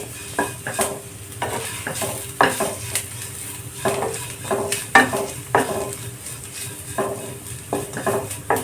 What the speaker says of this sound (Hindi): 1 चम्मच धनिया पाउडर, आधा चम्मच गरम मसाला डाल के इसको थोड़ा सा भूंज लेंगे।